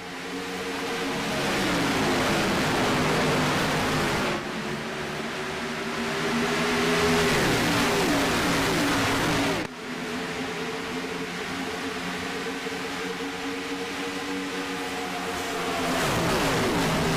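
Race cars in a sim racing game roar off the start at Darlington, a loud, continuous pack of engines whose pitch swells and dips as they rev and accelerate, with no voices.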